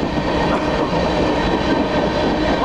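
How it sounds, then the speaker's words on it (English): Long freight train hauling frac sand rolls through a town, a steady, dense rumble of rail cars and wheel noise continuing without a break. "That's one of them trains that haul that crack sand or whatever they use for oiling."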